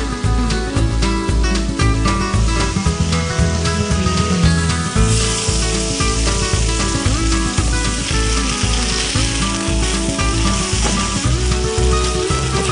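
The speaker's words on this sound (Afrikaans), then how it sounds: "ek gaan nou die Oumas Boerewors lekker bruin braai in die" Boerewors sausage frying in a pan, a loud, steady sizzle that runs without a break, alone and close up.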